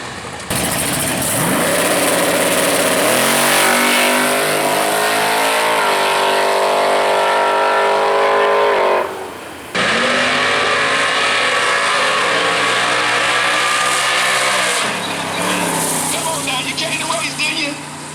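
Drag cars, among them a 1998 Chevy Camaro, launch in a no-time race at World Wide Technology Raceway: loud engines roar and rev, with pitches sweeping up through gears while a commentator talks over them.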